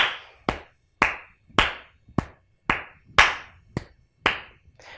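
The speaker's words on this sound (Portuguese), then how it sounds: "A palma mais forte." Loud, sharp hand claps, about nine of them, struck one at a time at an uneven, deliberate pace during an arts lesson, each clap close and ringing out alone with quiet gaps between.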